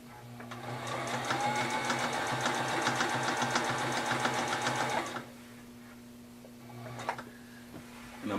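A sewing machine runs steadily for about five seconds, stitching fabric for a simple tunic as the cloth is guided through, then stops, leaving a low hum and a brief faint clatter.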